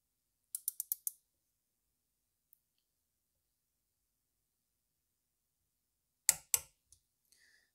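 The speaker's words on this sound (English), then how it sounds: "So I have my torque wrench set to 10 Newton meters. So if I try to torque it back," A torque wrench tightens VANOS bolts to 10 Newton meters, giving a quick run of four or five sharp clicks, then a pause and a second burst of clicks with faint creaks, close and otherwise quiet.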